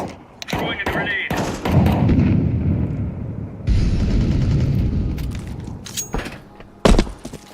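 Grenade blasts and gunfire in a multiplayer shooter game: several sharp booms and bursts with rolling rumble, including one loud explosion near the end, mixed with game noise and some talk.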